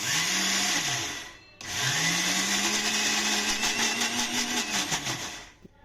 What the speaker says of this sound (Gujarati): હવે તેને આપણે મિક્સરની જારમાં ક્રશ કરવાનું